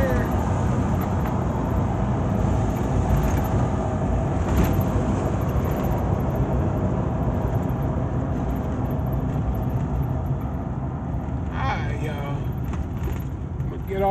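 A Honda Passport truck drives through Toronto, giving a steady, loud road and engine rumble with tire noise throughout, plus brief clinks near the end.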